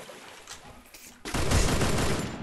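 Gunfire in a 1 vs 4 shooter game: quieter scattered shots give way to a loud, dense burst of automatic fire lasting over a second, close and alone.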